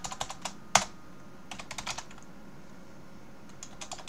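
Keys clatter on a computer keyboard in short irregular bursts, with one sharper keystroke standing out and brief pauses between, close and alone without speech.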